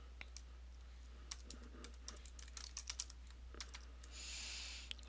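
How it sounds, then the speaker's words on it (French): Password being typed on a computer keyboard: a string of quick, faint key clicks in an irregular rhythm over a steady low hum, with a brief hiss near the end. "Et on doit entrer notre mot de passe."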